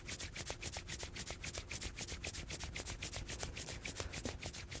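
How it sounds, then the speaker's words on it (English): Palms rub together in a steady, even back-and-forth rhythm, a soft, continuous swishing close to the listener, with no voices. "now let's rub our palms with closed eyes"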